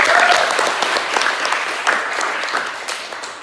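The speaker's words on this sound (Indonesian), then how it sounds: "Tepuk tangan dulu untuk Rahman." An audience at a lecture session claps for Rahman, a loud burst of many hands that gradually thins and fades over a few seconds.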